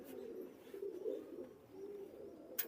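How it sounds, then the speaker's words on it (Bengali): Teddy pigeons of KTM generation coo steadily at close range in a low, soft, continuous rolling murmur, with a faint chirp near the end. "দেখেন কবুতরের দেখেন এর একজন রানিং টেডি কবুতর আছে এটা কেটিএম জেনারেশনের"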